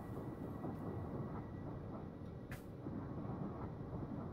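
Steady low rumble of a Class 378 electric train running on the North London Line in Train Simulator, a continuous dense drone with no voices and one brief brighter swish partway through.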